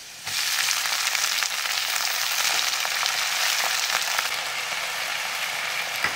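Fenugreek greens hiss and sizzle steadily in a hot pan after being dropped in, a close, continuous frying sound with no talking.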